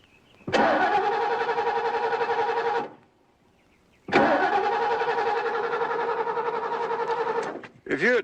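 A car engine with its coil wire missing cranks without starting in two long, loud, close bursts of rhythmic whirring separated by a pause, then a brief third attempt.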